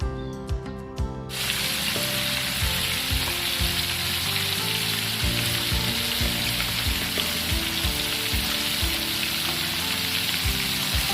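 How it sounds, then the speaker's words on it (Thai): Steady, loud sizzling and crackling of battered fermented fish (pla som) frying in hot oil, continuous from start to finish with no talking. "ทอดปลาส้มค่ะ ปลาส้มชุบแป้งทอด แป้งโคกิแป้งกรอบค่ะ"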